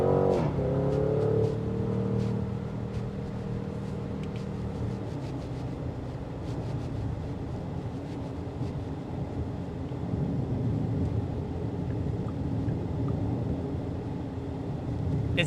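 A 2025 Porsche Cayenne GTS Coupe accelerates, heard from inside the cabin as a steady low engine drone and road roar that holds for the whole stretch after a brief louder start.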